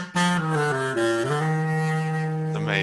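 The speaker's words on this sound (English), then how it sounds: "This is like a bassoon or oboe" A homemade double-reed instrument fashioned from plastic garden hose, sounding like a bassoon or oboe, plays one sustained reedy, buzzy note with a few pitch bends, loud and close with no voices.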